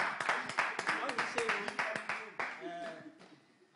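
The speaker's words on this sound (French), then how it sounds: "Merci d'applaudir les Tabala" Audience clapping for the Tabala performers, an irregular burst of claps with voices and shouts mixed throughout, fading toward the end.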